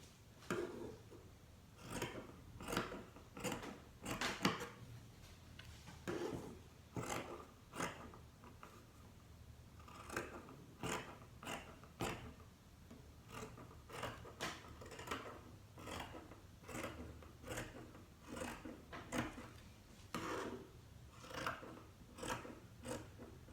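Scissors snip steadily through red viscose linen dress fabric, a close, regular run of crisp cuts with short pauses between strokes.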